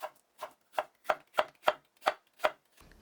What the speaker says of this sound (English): And we're just slicing these thinly.